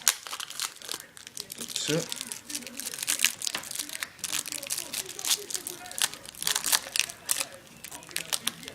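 Plastic packaging for a magic trick is opened, with loud, continuous close crinkling and crumpling throughout, and a person speaks briefly over it.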